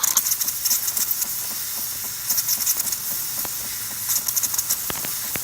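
The steam wand of a Jura espresso machine hisses loudly and close, a bright continuous rush of steam with pulsing bursts and small sputtering pops, heard alone.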